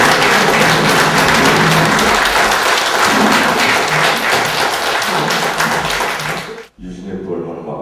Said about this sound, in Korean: 오늘 나와주신 이 두 분께 큰 박수